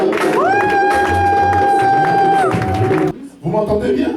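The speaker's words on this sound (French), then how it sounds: "Acclame fortement le roi." A church congregation cheering loudly for the king, with a crowd of voices roaring and shouting over a sustained singing voice and music, then dropping briefly before voices resume.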